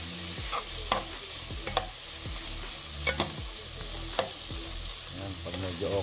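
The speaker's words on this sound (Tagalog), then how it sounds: "haluin lang natin konti guys para ano, hindi masunog yung bawang, sibuyas at saka" Garlic, onion and ginger sauté in a pan for ginisang pusit, a squid and tomato dish. A continuous sizzle runs under repeated scrapes and knocks of a spatula being stirred through, close and fairly loud, with no talking.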